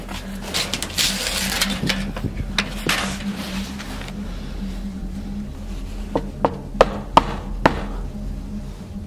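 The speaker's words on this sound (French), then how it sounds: "en allant toquer à la porte" Knuckles knocking on a door: an opening burst of scuffling and thumps, then several sharp, distinct raps spaced apart near the end, fairly close with no voices.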